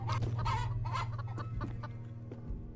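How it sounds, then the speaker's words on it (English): Chickens cluck repeatedly in the horror video game Devour, a steady close run of short clucks over a low droning hum. "Oh, there's another chicken right here."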